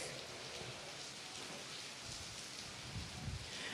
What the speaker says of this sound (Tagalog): sa mga oras na ito ay nakakaranas ng malakas na ulan at hangin itong bayan ng Santa Ana sa Cagayan